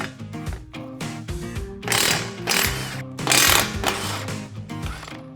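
An impact wrench rattles off strut bolts on a Mustang suspension, with short bursts of loud, rapid hammering and ratcheting, close up, separated by brief pauses.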